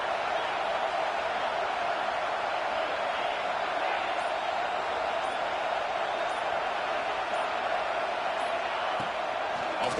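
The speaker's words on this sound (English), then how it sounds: "listen to this crowd noise. This stadium is vibrating." Roaring stadium crowd at a college football game between Texas A&M and LSU, a dense, constant wash of cheering that fills the whole stretch, loud and steady with no breaks.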